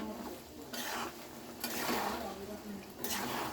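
Eggplant being stirred in a pan while cooking a hilsa fish curry with potato: scraping strokes of a spoon against the pan come in bursts over a soft sizzle, with a voice talking through it.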